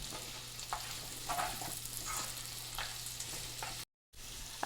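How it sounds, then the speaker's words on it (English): Onions stirred in melted butter in a skillet, a steady soft sizzle of frying with scattered scraping taps of a utensil against the pan, close by and continuous apart from a brief dropout near the end. "Okay, go ahead and give it a stir."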